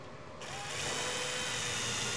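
A power drill bores into a wall with a continuous high whine that grows slightly louder after the first half-second, close by and with no talk over it.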